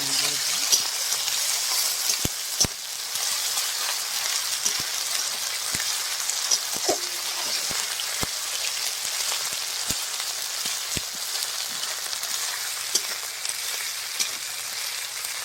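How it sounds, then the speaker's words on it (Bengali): Ginger and garlic paste frying in a pan in a rustic village kitchen, a steady crackling sizzle with scattered sharp pops and ticks, continuous and fairly close, with no talking. "আদা রসুন বাটা আমি ভালো করে ভেজে নেব"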